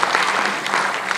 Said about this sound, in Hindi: तालियों से स्वागत करिए हमारे साथी का